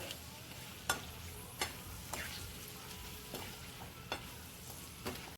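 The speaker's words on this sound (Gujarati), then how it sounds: "હવે બરાબર મિક્સ કરી લઈશું અને આને બધું બરાબર આપણે સાતળીશું" Palak paneer masala sautéing in a pan, a soft, low sizzle with a few sharp clinks of a spoon against the pan at irregular intervals, quiet and close, no talking.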